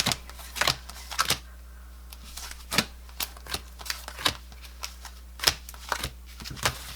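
Paper cash envelopes being handled and sorted while preparing to stuff them, with a series of close, crisp rustles and flicks in irregular bursts against a low steady hum.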